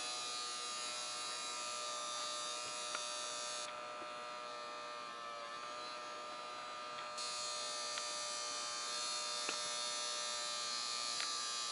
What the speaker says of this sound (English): The motor's running right now.